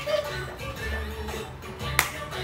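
A baby twin clapping hands at home gives one sharp, close clap that stands out against a quiet room murmur.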